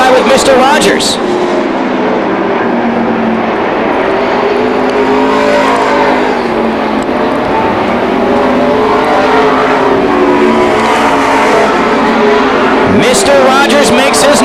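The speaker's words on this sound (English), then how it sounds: "Gary's had a couple of good runs in that car, now riding side by side with Mr. Rogers." NASCAR Busch North Series stock cars race at Beech Ridge Motor Speedway, engines roaring loudly and continuously with shifting pitch as cars run side by side, under a race commentator's voice, with a car sweeping past near the end.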